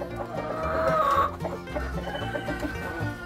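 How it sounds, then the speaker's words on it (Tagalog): Black Australorp chickens, a dual-purpose breed, cluck close by in a short burst of murmuring calls over low background rumble. "So malalaki din itong mga manok dahil dual purpose breed ito"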